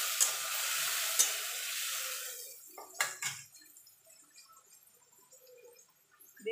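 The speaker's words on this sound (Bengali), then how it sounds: "এবার এই সব মশলার পেস্টটা একসঙ্গে দিয়ে দেবো" Spice paste goes into fried potatoes in a hot pan for a vegetarian banana-flower curry. A loud sizzle with scraping stir strokes fades to a quieter simmer, broken by a few spoon-against-pan clinks.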